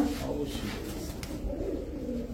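Pigeons cooing in a market loft where silver-colored birds are being sold, a low continuous murmur of overlapping coos with faint background bustle.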